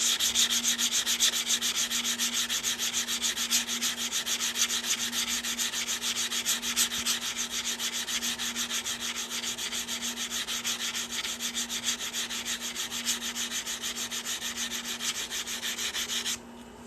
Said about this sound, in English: what I was doing there is just sanding this cut edge